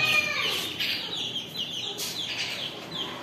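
Young chicks and chickens, including guinea fowl or Aseel chicks, cluck and chirp at close range in a steady, busy stream of calls with no talk over them.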